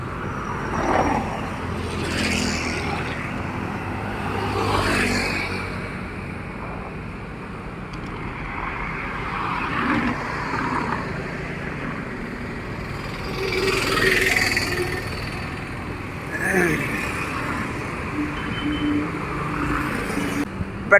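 Cars pass along the NH66 Calicut bypass highway, their road noise swelling and fading in broad whooshes with a steady traffic rumble between passes.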